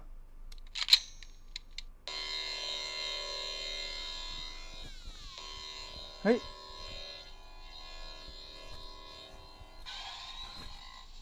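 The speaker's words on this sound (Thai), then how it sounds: "ก็คือมันมีเสียงแบบ เหมือนแบบว่าไอ้สติ๊กมันทำงานอยู่" A Loki TVA time stick toy running its electronic operating sound, a sustained buzzing tone with shifting pitch, a sweeping note near the middle and a click or two at the start.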